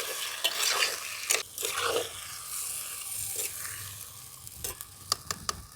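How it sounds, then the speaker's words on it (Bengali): Goat meat with spices and fresh green chillies being stirred in a pan, giving repeated scraping and sizzling strokes at close range, with brief sharp clinks of the utensil against the pan. "ভালো করে মশলাগুলো মাংসের সঙ্গে মিশিয়ে নিয়েছি"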